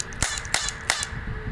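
An Italian-made toy cap pistol fires three sharp, snappy cracks in quick, fairly even succession, close and crisp, with no voices.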